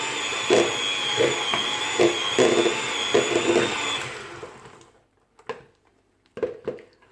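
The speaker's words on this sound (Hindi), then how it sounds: "हैंड मिक्सचर के साथ कर लेती हूँ।" An electric hand mixer whirs steadily through cookie batter of ghee and sugar, its motor hum broken by rhythmic thumps against the bowl, then cuts out, leaving a few scattered knocks and scrapes.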